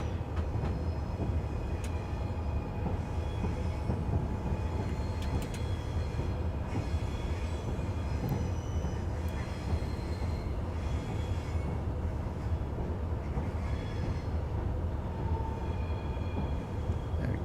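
A Pendolino pulls out of Birmingham New Street on the West Coast Main Line in Train Simulator, with a continuous low rumble of wheels and motors, light squeals and a steady rolling drone, close and even throughout with no talk.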